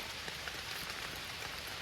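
Rain patters steadily on leaves in an oak forest in October, a soft even hiss with faint scattered drops close by and no voices.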